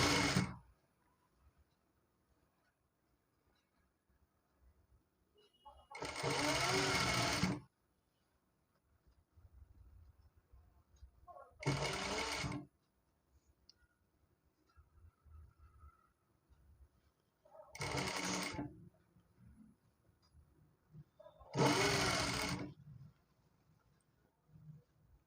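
A sewing machine stitches pleats into gathered trousers in several short whirring bursts, each a second or two long, separated by quiet pauses.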